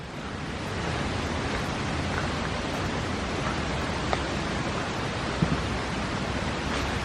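Rushing water roars steadily through the rocky gorge at Clifton Gorge State Nature Preserve, a constant dense wash with no breaks and no voices.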